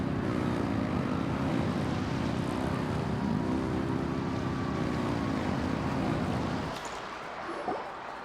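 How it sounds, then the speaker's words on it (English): Engines revving in Genshin Impact, a loud sustained droning roar like a propeller craft that holds steady for several seconds, then drops away abruptly near the end. "Rev the engines!"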